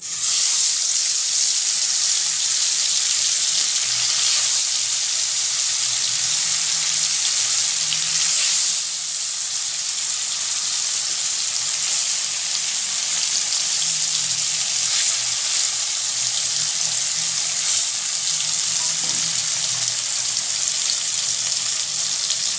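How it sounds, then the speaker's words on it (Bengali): Paneer pieces frying in hot oil in a wok, a loud, continuous close sizzle and crackle that holds steady for over twenty seconds with no one speaking. "তেল তেলটা গরম হলে আমি পনিরগুলোকে ভাজতে দেব"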